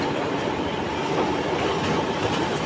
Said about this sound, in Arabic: بصوا بقى الترام اللي جاي من الناحية التانية